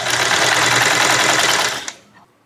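A sewing machine stitching suspender straps together, a loud rapid continuous needle chatter close up for about two seconds before stopping abruptly.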